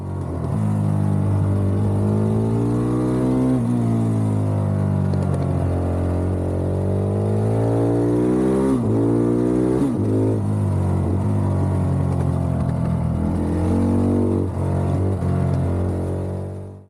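Braaap MX450 motard motorcycle ridden hard on a winding mountain road, its engine loud and close, rising and falling through repeated gear changes and revs as it corners, with no talk.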